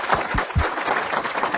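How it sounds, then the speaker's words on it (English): Brief audience applause at a medical symposium expert panel, a rough burst of many hands clapping with a few heavier low thumps early on, steady and close for under two seconds. "I just think we all ought to have a round of applause for Green"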